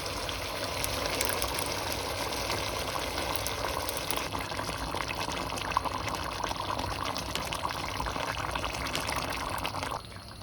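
Tomato passata pours steadily into a pot of Neapolitan Sunday ragù in a continuous liquid gush, close and moderately loud, ending abruptly near the finish.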